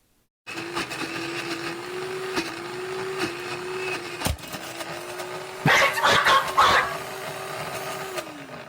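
A kitchen blender runs with a steady motor whine and then breaks down, with rattling, crunching bursts near the end before the motor pitch drops.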